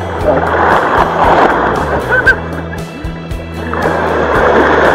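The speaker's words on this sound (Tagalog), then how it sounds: "Sobrang lakas ng alon." Strong ocean waves surge and crash on the rocky shore of Fortune Island beach in Nasugbu, Batangas, a loud continuous roar and wash with wind buffeting the mic.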